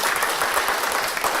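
A church congregation claps for Jesus, a dense, steady burst of applause from many hands filling the room at close range.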